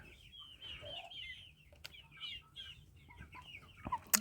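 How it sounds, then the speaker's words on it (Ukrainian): Soft clucking and murmuring from chickens and a rooster, steady and fairly faint, with a few sharper clicks and knocks near the end. "зараз півень мені покаже, хто тут господар"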